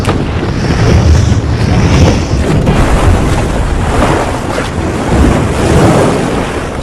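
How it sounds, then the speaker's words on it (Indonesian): Ocean surf rolls and crashes steadily, a loud, continuous wash of waves with gusts of wind buffeting the microphone throughout, no voices. "Satu persatu ombak pun berhasil dilewatinya"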